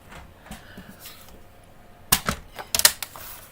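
Paper card being cut down to size for stamping. Two bursts of sharp crisp snipping or clicking near the end come after a quiet stretch with soft handling noises.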